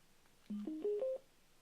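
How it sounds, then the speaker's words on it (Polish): A short run of four rising electronic tones, one after another, like a phone's dial or call tone, fairly faint and alone. "Ja postaram się ten telefon tak włączyć, żeby Państwo mogli go słyszeć"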